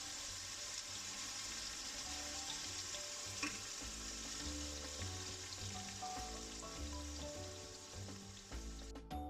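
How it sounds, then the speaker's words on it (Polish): Pieces of beef fry in oil in a pan, giving a steady, close sizzle with faint crackles throughout, with no talk over it. "wykładam pojedynczo kawałki mięsa i smażę każdej strony po mniej więcej 3-4 minuty, tak żeby się zarumieniło."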